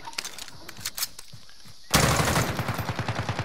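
Rapid bursts of cannon and automatic gunfire in a video game, starting sparse, then erupting into a loud, dense, continuous barrage with a rhythmic thumping pulse.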